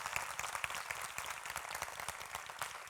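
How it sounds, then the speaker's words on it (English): Audience applause for a speaker at a youth summit student session, steady dense clapping from a crowd throughout, fairly loud with no talk over it. "Give him a round of applause"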